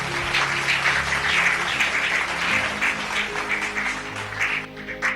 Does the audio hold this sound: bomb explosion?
no